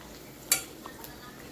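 A spoon gives one quick scrape through onion, tomato and potato softening in oil in a pan, a short clink, then faint quiet stirring with a light sizzle underneath.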